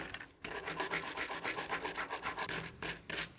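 Brisk, rhythmic rubbing strokes scrub the metal jaw slides of a Vicmarc lathe chuck, repeating at an even pace close up after a quiet start, with a short pause near the end.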